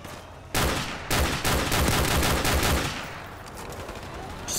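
Rapid automatic gunfire in Call of Duty: Modern Warfare Remastered, a gun emptying its whole magazine in a steady burst of close, loud shots lasting about two seconds, then fading into a rumbling tail.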